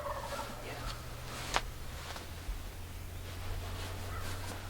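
Wild turkey gobbler on a Kentucky ridge during spring hunting, gobbling at a distance behind a steady low hum and outdoor hiss, with a couple of brief sharper calls standing out faintly.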